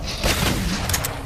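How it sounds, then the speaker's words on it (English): A Gauss cannon shot strikes a hardlight shield in the video game Halo 4, giving a muffled boom over steady game background noise, with a few sharp bright crackles near the end. "All right, this is the Gauss cannon."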